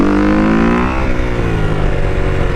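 A motorcycle running a wheelie-tuned ECU map pulls hard in 4th gear, its loud close engine note climbing steadily then holding a strong continuous drone.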